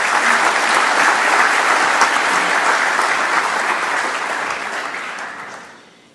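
Loud, dense applause from a large audience at the 44th FAO Conference, sustained for several seconds, then tapering off toward the end.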